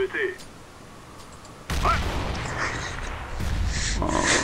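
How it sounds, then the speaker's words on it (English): A flashbang grenade goes off in Counter-Strike: Global Offensive as a sudden broadband burst, followed a couple of seconds later by a second loud crack, with a voice talking at the start. "I'm throwing a flashbang"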